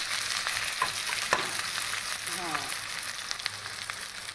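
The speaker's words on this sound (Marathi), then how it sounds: "तेल झालं गरम जिरं घेते टाकून आणि जिरं टाकल्याच्या नंतर कांदा हिरवी मिरची लसूण" Cumin, onion, green chili and garlic fry in hot oil for red masoor dal, producing a dense, steady hiss of sizzling with a few faint scrapes and taps of stirring up close.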